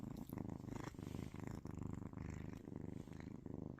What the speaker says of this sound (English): Just listen to that purr.